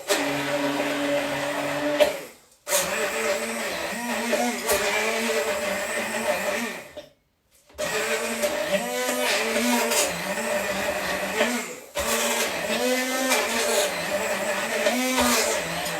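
A blender grinds cashew nuts for a vegan date caramel filling, running loud and continuous in three long bursts separated by brief stops, its pitch wavering as the nuts break down.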